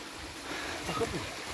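Clear spring water flowing from a mountain source around 2,490 m up Mount Slamet, a soft steady trickle and babble close by, fairly quiet and continuous, with faint small splashes near the middle.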